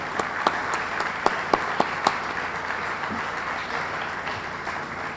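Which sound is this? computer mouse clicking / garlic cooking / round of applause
round of applause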